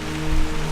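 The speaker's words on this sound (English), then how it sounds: "It's a rain, what do we call this?" Rain falls in Laos as a steady, even hiss of drops, with a constant low hum running underneath.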